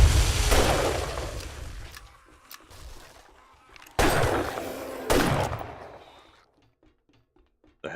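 Gunfire in the zombie survival video game 7 Days to Die: loud bursts of rapid shots at the start, a quieter lull, then two more sharp loud volleys near the middle, fading to faint scattered clicks at the end.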